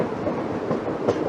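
A train rolls on rails between Kollam and Chenkottai through the Western Ghats in heavy rain, giving a dense, steady rumbling roar with faint rhythmic clatter.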